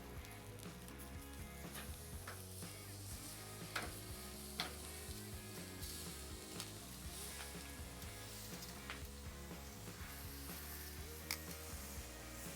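Tri-tip steak, dry brined and pecan smoked, sizzles on a PK grill just after being flipped, with a steady crackling fry and scattered small ticks and pops, close and continuous, no talking.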